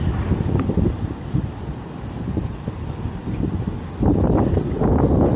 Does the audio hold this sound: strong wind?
yes